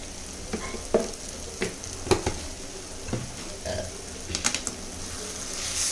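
Eggs fry with chili powder and turmeric in a pan, a quiet sizzle broken by irregular clicks and scrapes of stirring, heard up close with no talk.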